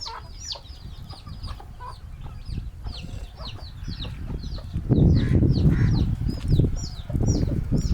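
Many chickens cluck and chatter nearby inside a farming shed, with a burst of rustling and flapping wings midway.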